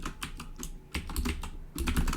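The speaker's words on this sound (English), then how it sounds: "I'm just going to type in some text" Rapid clicking keystrokes on a computer keyboard as short text labels are entered, bursts of close, crisp taps with brief pauses between them.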